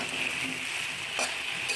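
Cut pumpkin pieces sautéing in a pan for khichuri, a steady close sizzle with faint stirring scrapes and two brief louder bursts of hiss.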